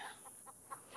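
A lone chicken on a farm after a predator attack clucks in a few short, faint calls spaced through the second, with no talk over them.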